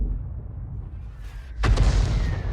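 In World of Tanks, a French 105 leFH18B2 self-propelled artillery gun fires once, a single loud, sharp boom over a low rumbling battlefield background, followed by a decaying tail.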